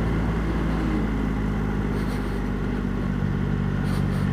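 A motorcycle engine runs steadily at a constant loud drone with a low rumbling tone and no revving or pauses, close by and without talk.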